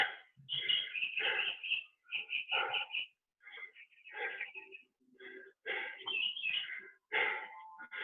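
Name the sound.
birds whistling in a backyard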